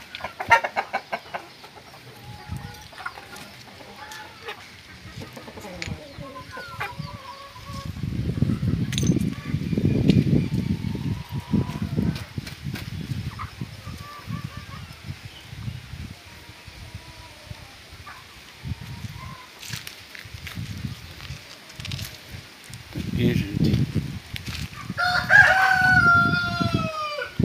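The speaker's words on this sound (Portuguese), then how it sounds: "Estão ali, as galinhas ali." Young Embrapa 051 hens and cockerels in a chicken yard in Penedo, Alabama, Brazil, cluck and squabble steadily at close range, with a rooster crowing near the end and someone speaking briefly over the flock.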